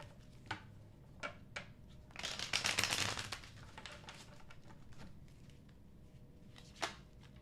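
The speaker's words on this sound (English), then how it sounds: "Last shuffle for Virgos." Tarot cards being shuffled by hand, a quiet run of soft riffling and flicking with a denser flurry in the middle and a few isolated taps, close and low in level.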